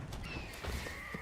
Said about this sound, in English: It's an eagle.